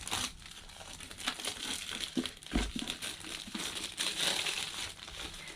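Packaging of a Cricut Joy machine is opened up close, with loud crinkling, rustling and tearing of plastic and cardboard in irregular bursts throughout.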